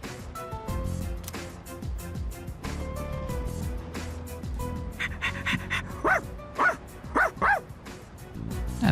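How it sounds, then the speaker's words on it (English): A dog in the video game Persona 3 Reload barks several times in quick succession over quiet in-game background music, the barks growing louder toward the end. "That's many barks."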